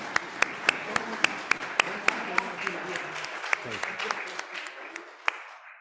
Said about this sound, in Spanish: Aplauso para ti.